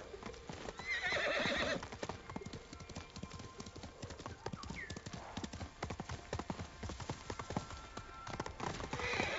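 A horse in the video game Ghost of Tsushima galloping with rapid, steady clip-clop hoofbeats throughout, plus a loud neigh near the start and another brief whinny midway.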